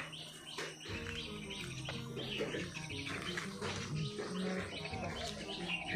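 Busy, overlapping bird chirps and tweets as a mother bird feeds its chick, filling the scene continuously, with a steady outdoor background murmur beneath them.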